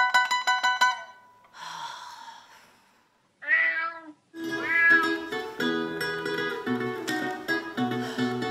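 A cat meowing in a Dutch children's song, several drawn-out meows and a whiny caterwaul mixed with music, with a pause of near silence partway through.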